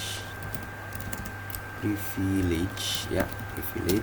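Keys clatter on a computer keyboard as a database permission command is entered, giving soft, irregular clicks in short bursts under a low room hum, with a voice speaking intermittently.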